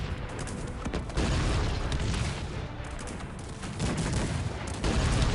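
Dense gunfire volleys crackle continuously in Cossacks 3 multiplayer battle, overlapping musket shots and booms forming a steady loud roar with surges, no talking.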